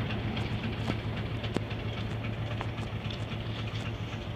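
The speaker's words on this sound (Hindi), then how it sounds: "बहुत ही मज़ा आ गया ये क्रॉस देखकर 129 और ऑयल टैंकर ट्रेन का" Steady rumble of a passing train, No. 129 crossing an oil tanker goods train on a loop line, with a low continuous drone, faint wheel clicks and a few sharp metallic ticks throughout.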